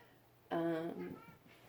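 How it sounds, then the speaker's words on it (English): A domestic cat lets out one short, tonal meow indoors, close and clear, followed by a softer trailing vocal sound in an otherwise quiet room. "the cat singing his song, the song of his people"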